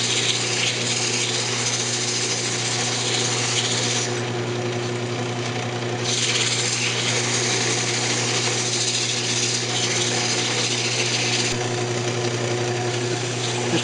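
A segmented wooden bowl being sanded on a spinning woodturning lathe, with a loud, steady motor whine and a constant hiss of abrasive against wood that briefly rises and falls in intensity.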